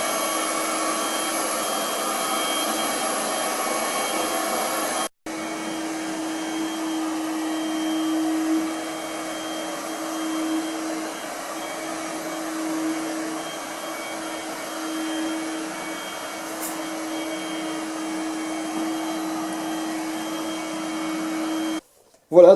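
A Cecotec Windroid 870 window-cleaning robot scrubs glass with a steady high motor whine and suction hum, loud and close, briefly cutting out at the start and end.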